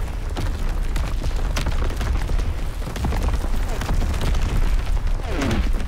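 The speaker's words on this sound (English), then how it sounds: "Proper barrage." A barrage of explosions and gunfire fills a Call of Duty WW2 online multiplayer match, with continuous rumbling booms and sharp bursts layered densely and loudly throughout.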